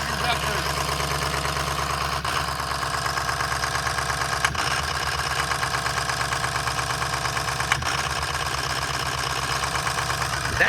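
A Ford diesel engine with remanufactured injectors and an aftermarket injector harness idling up close, a loud steady rattling clatter with a regular knock throughout and no talking.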